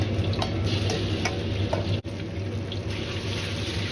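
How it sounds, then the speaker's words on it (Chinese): Marinated shredded meat stir-frying in a wok over medium heat in oil, with a steady close sizzle and soft utensil ticks and scrapes. One brief sharp knock comes midway. "用勺子向一个方向快速的推动，把肉絲炒散"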